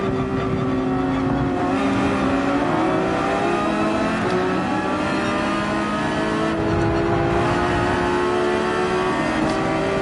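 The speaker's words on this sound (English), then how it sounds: "Two very different beasts racing against each other here." Race cars lap Yas Marina circuit in Gran Turismo 7, engines revving hard and shifting pitch as they accelerate, a loud, continuous mechanical roar close by.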